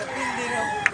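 A bullstag gamefowl rooster with green legs crows in one sustained, fairly loud call lasting about a second over a steady background, with a brief sharp sound near the end.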